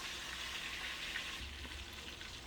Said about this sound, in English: So as the chicken is frying here, see.